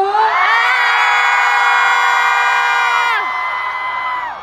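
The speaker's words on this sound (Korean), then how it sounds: "우리 성균대학교 학생들 3년치 목표놓 목소리 한번 들어봅시다. 소리 질러!" A large crowd of university students screaming and cheering at a campus festival concert, a loud sustained high-pitched roar with whoops that swells, holds, then drops off sharply.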